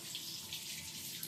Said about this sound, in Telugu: ఈ టమాటోని అయితే కడుగుతున్నాం